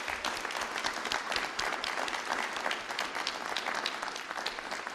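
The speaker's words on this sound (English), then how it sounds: "you all deserve a round of applause" A room full of people at a governor's news conference breaks into dense, even applause that holds steady throughout without talk.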